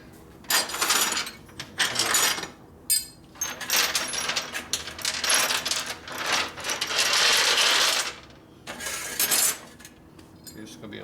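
A wrench drops and clatters during repair work on a 1957 Harley-Davidson panhead drag bike, giving several bright metallic clinks and rattles spread across the clip, fairly close, with some handling noise between the hits.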